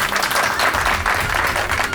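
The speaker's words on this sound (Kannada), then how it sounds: "ಚಪ್ಪಾಳೆ" A studio audience on a Kannada television game show breaks into steady, full applause, with dense clapping that holds at an even level throughout.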